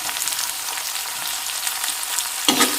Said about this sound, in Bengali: তেলতে বিলাহীখিনি ভাজি ল'ম